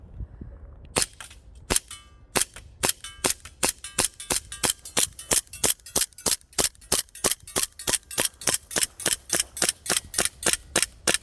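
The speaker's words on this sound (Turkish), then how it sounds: "Atış, atış yap da görelim." A cheap toy pistol fires in a shooting test, about two dozen sharp, snappy cracks that speed into a fast, regular rhythm, close and loud with no voices.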